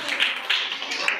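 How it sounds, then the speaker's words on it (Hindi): Students clap together in a classroom, a steady, fairly loud patter of many hands lasting about a second with a few sharper peaks. "इसलिए अब सी वालों के लिए अब डी वाले ताली बजाएंगे।"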